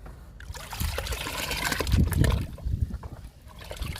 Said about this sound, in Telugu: ఈ లిక్విడ్ని కూడా కలుపుకుందాము.